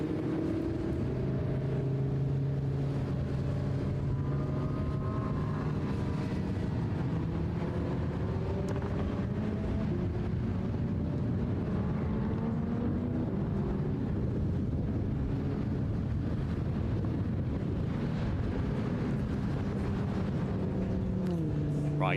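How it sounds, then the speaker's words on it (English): Rare supercars drive on a track at a car meet, engines droning and rising in pitch as they accelerate, heard at a distance alongside wind buffeting on the microphone, with no talk over them. "I'm going to leave you to enjoy the sounds of these cars"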